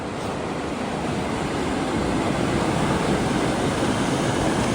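Steady roar of Pacific Ocean surf, continuous and broad, with wind noise blending into the wash of the waves.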